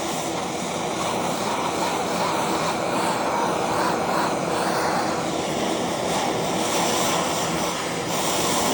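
A torch flame heats a transmission part for heat treating on a Pontiac Sunbird GT Turbo, producing a loud, constant roaring whoosh that holds steady without a break.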